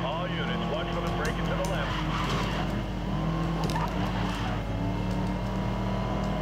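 A Ford GT race car roars continuously in a driving game, its engine droning steadily with faint tire squeal, while a player talks over it throughout.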